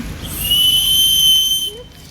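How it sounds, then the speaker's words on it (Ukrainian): A toy whistle is blown in one long steady shrill tone lasting well over a second, fairly close and loud, then tails off into quiet background. "Свистюлькою покажи Леся"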